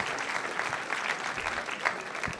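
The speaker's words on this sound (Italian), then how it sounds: "un applauso a Ivan Incani e grazie a voi" Audience applause for a presenter at a conference session of a job fair in Cagliari, a steady, moderately distant wash of clapping from a seated crowd without a clear break.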